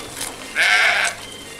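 A goat gives one clear, nasal bleat at a sacrificial animal market in Jembrana, Bali, before Eid al-Adha, heard over a low, steady background hum.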